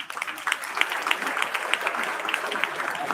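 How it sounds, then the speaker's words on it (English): Audience applause at a school English speech and poetry event, a scattered crowd of clapping hands with distinct individual claps, moderately loud and fairly steady, from a room-wide audience. "First round of applause for the lovely audience."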